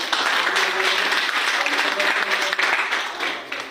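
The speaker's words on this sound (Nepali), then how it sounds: "र यस मञ्चमा उपस्थित हुनुभएका सम्पूर्ण लिडरहरूको लागि एकचोटि फेरि पनि जोरदार ताली बजाउनु।" Loud, sustained applause from an audience cheering leaders on stage, a dense wash of clapping that holds steady throughout and fades slightly at the end.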